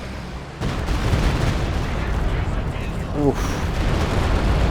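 In the video game Company of Heroes 2, an artillery barrage sends out a rolling series of deep booms and rumbling blasts that continue throughout, while a voice talks over the explosions.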